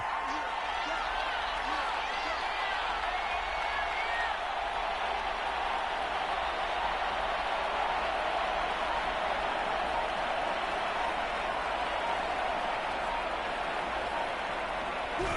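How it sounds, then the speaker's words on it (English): A home crowd at a football game applauds and cheers in a steady, dense wash of clapping and crowd roar that stays loud and unbroken for the whole stretch. "And the home crowd applauding."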